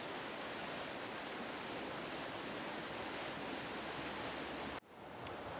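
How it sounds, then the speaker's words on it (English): Water rushes through a river fish pass at the bottom of a fishing beat in a steady, dense broadband roar with no voices. It cuts off abruptly near the end. "the first site we're going to look at is the Fish Pass at the bottom of Beat 4"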